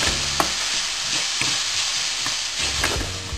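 Chopped onion fries in oil as the base for a tuna loin sauce, a dense continuous sizzle with occasional sharp scrapes and taps of stirring, loud and close, no voices.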